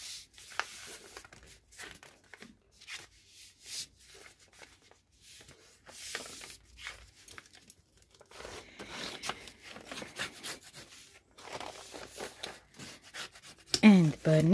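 A fold in a paper shopping bag is burnished with soft, close rubbing and scraping strokes that come in short uneven bursts. The sounds are faint and quiet, and a voice talks in between.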